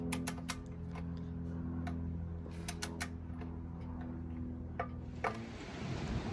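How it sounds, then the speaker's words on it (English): A torque wrench clicks in sharp, irregular bursts while LS engine oil pan bolts are tightened in a garage, crisp ticks standing out over a low steady hum, with a louder clatter near the end. "we got the oil pan getting torqued up right now"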